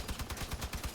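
Rapid repeated weapon fire from a vehicle in the Crossout combat game, a steady rhythmic burst of shots about a dozen per second, fairly close and moderately loud with no talking.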